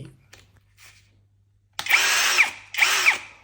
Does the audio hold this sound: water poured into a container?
no